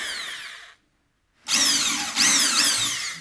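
A power drill drives screws into a wooden Langstroth beehive box, whining up in pitch in two short rising bursts after a pause of silence, loud and close with no talking.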